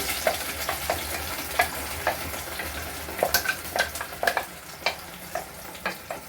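Steady sizzling of paste frying in hot oil, with repeated scraping and stirring clicks from a spoon against the pan, close up and without talk.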